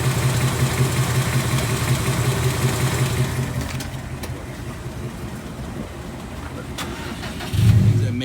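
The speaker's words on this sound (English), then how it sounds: "That is what we're being told, that is more or less a headers" A 2018 Mustang with aftermarket headers idling close by in a steady mechanical drone, with a small surge in engine noise near the end.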